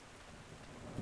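Steady rain in the video game ARK: The Island Ascended, a faint, even hiss that runs unbroken through the whole moment, with a soft low thump near the end and no voices.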